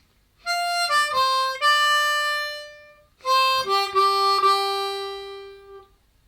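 A blues harmonica lick played alone in two short phrases of sustained reedy blow and draw notes, bright and close, each phrase sliding down to lower notes.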